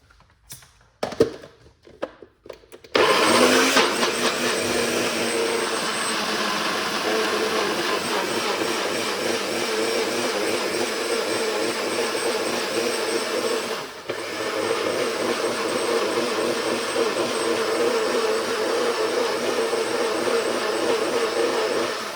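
A blender starts after a few clicks and whirs loudly and steadily for a long stretch blending celery juice, its motor grinding with a brief dip partway through.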